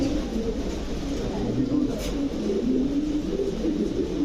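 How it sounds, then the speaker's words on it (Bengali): Blue-eyed racing pigeons coo in a low, steady murmur that runs throughout, a close, continuous rumble of several birds with a faint chirp near the middle. "ব্লু চোখের কবুতর দেখছেন ব্লু চোখের কবুতর ব্লু আইসের কবুতর"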